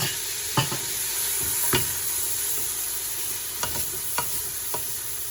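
Spices with chicken stock, black pepper, crushed chili and Chinese salt fry in a pan for potato bhujiya, giving a continuous close sizzle broken by a few sharp spoon clicks as the mixture is stirred.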